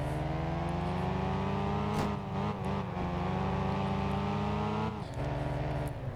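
A modded car's engine in the racing game Test Drive Unlimited 2 drones steadily with rising pitch as it accelerates through gears, with brief drops at shifts around two and five seconds, loud and continuous with no talking.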